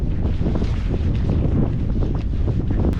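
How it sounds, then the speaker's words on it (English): Strong, gusty wind roars across the microphone at a hiking spot, loud and continuous, with low rumbling buffeting throughout. "It's windy down here, jeez."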